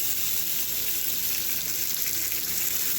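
Bacon-wrapped garlic knot sliders sear seam side down in a dry, unoiled skillet, giving off a steady, close, dense sizzle with no talking.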